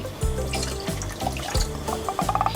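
Water poured from close by into a pot with sugar for a syrup, splashing and gurgling in short bursts with a few knocks of the vessel; no voices.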